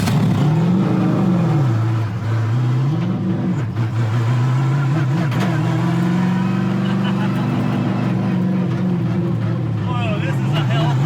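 Mazda Miata drifting uphill on a track with a hard e-brake pull, its engine revving and swinging in pitch, close and loud, with people talking over it.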